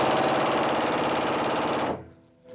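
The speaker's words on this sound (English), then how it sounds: "an undercover agent shows how a tiny device called an auto sear can turn almost any gun into a machine gun" Rapid machine gun fire from a gun fitted with an auto sear, a loud continuous stream of shots lasting about two seconds before cutting off abruptly into quiet.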